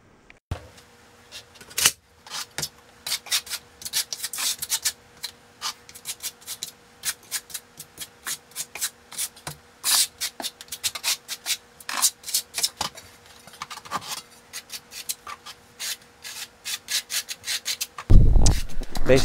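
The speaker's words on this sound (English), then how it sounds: "I am back using a flat-sided trowel to key the thinset into the Duroc" Flat-sided trowel scraping and keying thinset mortar onto Durock cement backer board while tiling a fireplace surround, close, with a long run of short, irregular rasping strokes and brief pauses, ending in a louder clatter.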